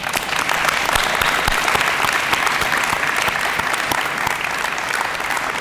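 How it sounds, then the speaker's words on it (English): Steady, loud audience applause at a school ribbon cutting for a new middle-high school building, many hands clapping together without break, with no talk over it. "Let's give them a round of applause"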